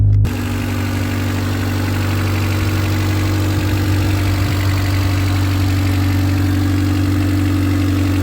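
A 1989 Honda Civic sedan engine idles steadily after starting, a close, even low hum with a constant drone and no talking.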